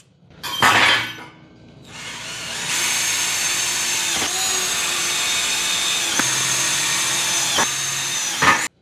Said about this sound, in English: We'll do a pilot hole first.